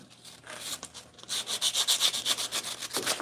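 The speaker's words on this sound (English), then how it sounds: "most men like to spend some time alone sanding the old wood." Old wood sanded by hand with no power tools: close, steady rhythmic rubbing strokes that grow louder and more regular partway through, with no talking.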